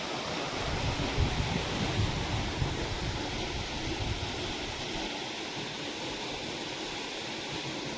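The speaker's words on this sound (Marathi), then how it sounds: "पाहू शकता आपण सौर पंप चालू केलाय तर पाणी किती मारतो पहा" An Ecozen 5 HP solar pump draws water from about 80 feet and sends out a steady, rushing gush. The roar is continuous and fairly soft, with no talk.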